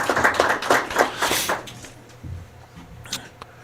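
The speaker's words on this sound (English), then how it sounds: "But a round of applause anyway." Applause from an audience at a county commissioners meeting, a burst of clapping lasting about a second and a half before fading into quiet room noise and a few stray taps.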